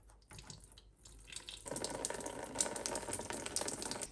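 Coolant drains from the radiator drain tap of a 2000s Opel Vauxhall Vectra 1.9 CDTi diesel: faint clicks and handling noise give way to a steady, close splashing pour that continues alone.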